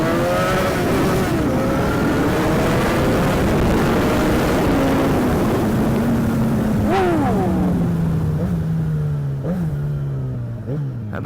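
Derestricted Yamaha XJ600 motorcycle ridden hard, its engine wailing loud and close, then dropping in pitch through the gears, with a sharp rising rev burst partway through before a lower steady drone fades away.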